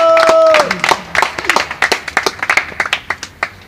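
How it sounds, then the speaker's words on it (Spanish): A tone cuts off and scattered clapping follows, a small crowd at a hip hop battle applauding in quick uneven claps that thin out toward the end. "¡Aplausos!"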